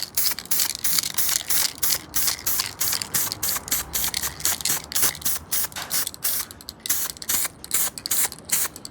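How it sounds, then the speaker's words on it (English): Rapid, choppy hissing bursts of aerosol spray coating metal parts of a 1955 Chevy truck's rear suspension, in quick succession, close and fairly loud, with no talking. "So we're gonna go ahead and hit the back side of this with a quick spray."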